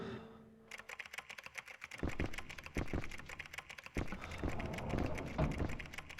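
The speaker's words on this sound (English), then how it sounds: "how many years has this ghost just been tapping relentlessly on that keyboard?" A ghost typing relentlessly on a computer keyboard in the horror game Echo Night: Beyond, with rapid, continuous key clicks and heavier thumps, fairly close and steady for several seconds.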